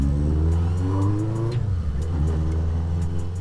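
A 1978 Kawasaki Z650 four-cylinder motorcycle engine revs up close, a strong harmonic rise that dips and swells again, with a steady loud idle rumble underneath and no talking.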